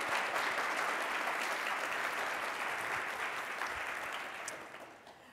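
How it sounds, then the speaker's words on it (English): At a 2022 AIAA sustainable-career panel event, an audience claps to welcome the panelists with a full, sustained round of applause that tapers off slightly near the end. "Let's give our panelists a quick round of applause to welcome them."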